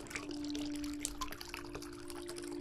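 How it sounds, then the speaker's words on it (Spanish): Gentle flowing water trickles and pours steadily and softly on its own, with a faint sustained tone running beneath the splashing, setting a calm meditation mood. "Sigue escuchando el agua."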